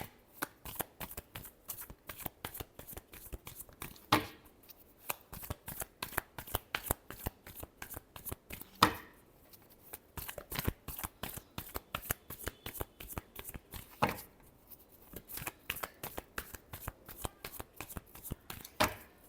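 A deck of tarot cards is riffled and shuffled over and over, rapid crisp flutters of cards in bursts with short pauses, close and fairly loud, with no talk over it.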